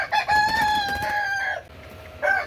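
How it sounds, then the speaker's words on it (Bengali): A Buff Orpington, a large chicken breed, crows once up close, loud and drawn-out over about a second and a half, followed by a brief clucking note, with no talking. "অন্যতম একটি বড় মুরগির জাত হচ্ছে বাফ অরপিন্টন"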